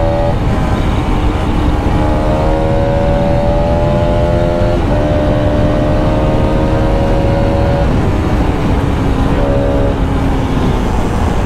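A KTM RC 390-class RS motorcycle, an RS being ridden hard, accelerates fast through repeated gear runs, its engine note climbing in rising revving sweeps with brief drops at each shift, loud and continuous with no talking.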